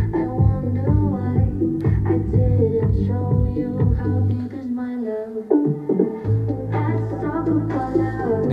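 Karaoke track with a sung vocal and full backing band playing through speakers inside a room lined with soundproofing foam, steady and fairly loud, with a brief drop in the bass partway through.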